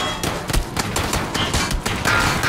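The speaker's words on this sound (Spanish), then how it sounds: "Y tiritos." Dense gunfire in a video game, loud rapid shots and bursts crackling continuously for a few seconds.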